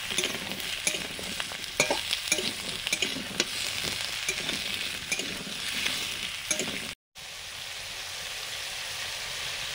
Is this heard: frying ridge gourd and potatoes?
yes